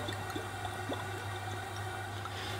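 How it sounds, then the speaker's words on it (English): Extra virgin olive oil, about a quarter cup, pours into a hot pan with a faint, soft liquid trickle and light drips over a low steady hum, quiet and continuous with no talk. "I'm pouring in about a 1/4 cup of extra virgin olive oil"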